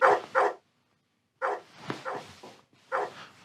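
A dog barks in a home, with a quick double bark, a pause, then a few more close, loud barks and a softer yip in between, with no talking.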